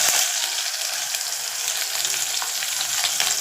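Four chopped onions fry in hot oil with cloves, cardamom and cinnamon, a loud, dense, steady sizzle with faint crackles and stirring throughout, close up and without voices.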